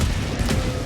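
Sentry turrets open fire in Helldivers 2, a dense rapid burst of loud gunfire with a sharp booming crack midway, all packed into a single second.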